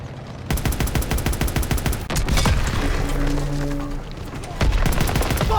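Dense, sustained automatic weapon fire in the World War II shooter Call of Duty: WWII, with rapid overlapping bursts that continue almost without pause and a heavier thump near the middle.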